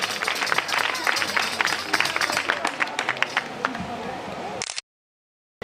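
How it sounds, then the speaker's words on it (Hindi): Audience at a women's anti-violence awareness gathering breaks into scattered applause and crowd noise under ongoing talk, fairly steady for several seconds before cutting off abruptly. "तालियां मार दो"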